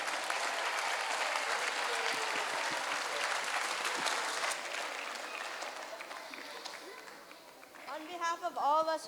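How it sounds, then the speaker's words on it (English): Audience at a school annual day show applauds for students, choreographers and parent volunteers, a full round of clapping that fades gradually, followed by a voice starting to speak near the end. "Please give them a round of applause."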